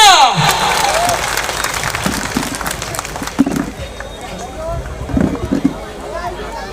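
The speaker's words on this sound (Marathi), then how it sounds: "एक जोरदार टाळ्या जाऊ द्या" Applause bursts out after a voice speaks at a Bhim Jayanti event in Nagpur, then fades into scattered claps and crowd noise with voices talking over it.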